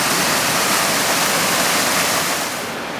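Steady, loud roar of a waterfall on a mountain hike trail near Lake Louise, a dense continuous rush of falling water that fades slightly at the end.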